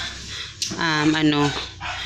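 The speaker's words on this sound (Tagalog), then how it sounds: "ingay ng aso" A dog barks once, close and fairly loud, a single drawn-out bark that stands alone.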